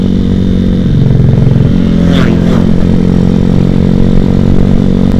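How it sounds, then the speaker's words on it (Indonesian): Suzuki Satria FU motorcycle accelerating on a road toward a dam, its steady engine drone loud and close throughout, with no talk over it. "Motornya tuh ya digesiki langsung melaju gitu, serut gitu"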